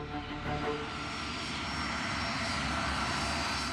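A Pan Am airliner taxis slowly down a runway in thick fog, its engines giving a steady, loud, broadband roar with a faint whine that holds evenly throughout.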